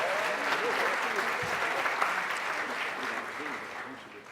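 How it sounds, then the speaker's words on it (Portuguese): Audience applause for sponsor companies at a crowded Brazilian media industry event, a dense, steady clapping from a full hall that holds throughout and tapers slightly at the end. "Eu queria pedir uma salva de palmas para essas empresas."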